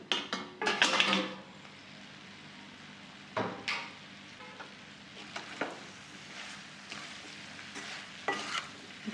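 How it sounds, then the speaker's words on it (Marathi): Mixed vegetables for a Maharashtrian Bhogi bhaji are stirred and sautéed in a kadhai after steaming on a low flame: bursts of scraping and clinking from the spoon, with a soft sizzle in the quieter gaps between. "आता आपण भाजी परतली का बघू."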